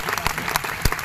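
An audience at a DXN motivational success-story talk claps in a dense, continuous round of applause, loud and close, with no speech over it.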